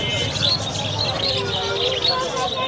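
Caged birds at the Khulna bird market, including budgerigars, chirp and tweet in a thin busy chorus beneath a steady bed of market noise.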